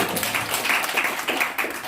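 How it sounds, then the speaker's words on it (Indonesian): A church congregation claps together for God during a worship service, a brief burst of steady, dense, close clapping. "Tepuk tangan dulu bagi Tuhan, tepuk tangan dulu."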